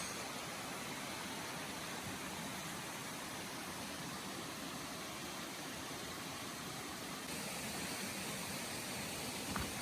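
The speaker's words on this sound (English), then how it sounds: "Right here, there's a waterfall" Waterfall running across a mountain hiking trail on Mount Bigelow in Maine, a steady, dense rush of falling water that holds level and close for the whole stretch, with no voices over it.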